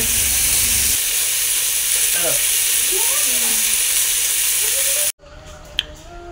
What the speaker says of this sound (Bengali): মাছের মাথাগুলো এখন ভাজা চলছে।